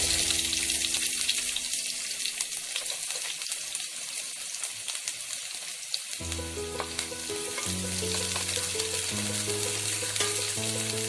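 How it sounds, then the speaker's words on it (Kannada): Onions fry in hot oil in a kadai with a constant close sizzle, and partway through a steady tonal hum rises and shifts pitch beneath the frying. "ಎಣ್ಣೆ ಬಿಸಿ ಆದಮೇಲೆ ಈ ಥರ ಈರುಳ್ಳಿ ಹಾಕೊಳ್ಳಿ."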